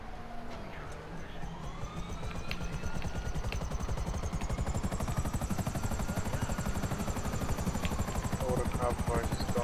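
A helicopter in GTA V Online thrums loudly with fast, steady rotor chopping that holds the whole time, while a siren-like tone wavers underneath.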